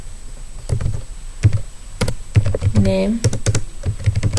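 Keys clatter on a computer keyboard while a C++ program is typed, coming as short bursts of close taps mixed with someone talking.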